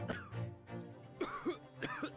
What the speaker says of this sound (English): I'm just going to let him just cough up a lung for a sec